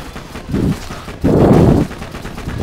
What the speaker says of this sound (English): Actually, the pistol's making pretty good work of them.